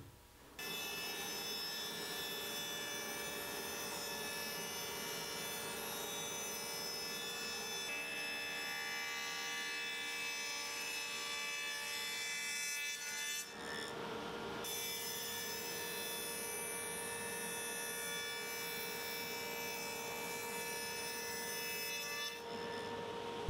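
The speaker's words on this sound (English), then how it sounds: "I have to cut a dado into the sides and the front and back to be able to accept the bottom" Steady sawing as a dado is cut into 5/8 plywood box sides for a storage bench, a continuous close, loud whine that runs unbroken apart from a short dip midway.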